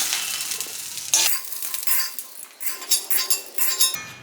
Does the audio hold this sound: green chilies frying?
yes